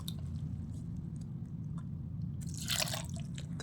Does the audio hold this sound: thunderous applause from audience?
no